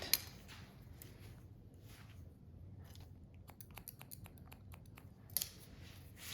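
Scissors point cutting hair during a pixie cut, a run of quick, quiet, crisp snips in a rapid series, close up against a faint background hush.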